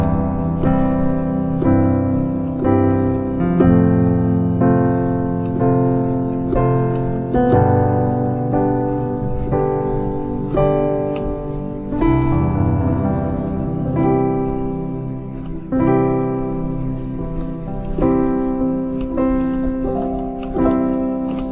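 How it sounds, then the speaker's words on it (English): Piano chords played as inversions in G, a series of sustained full chords changing every couple of seconds, close and steady with no talking. "So playing inversion is gonna sound like this."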